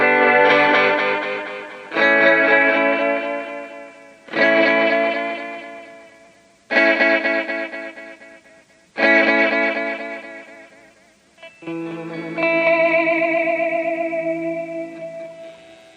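Six sustained, buzzy synth-like guitar chords through a Meris Enzo synth pedal ring out one after another, each fading before the next, with a lo-fi, processed tone.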